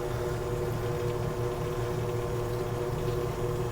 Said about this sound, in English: at least we know the engine does run